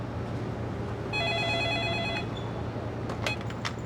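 A telephone rings with one sustained electronic ring lasting about a second over a low room hum, followed by a few faint clicks.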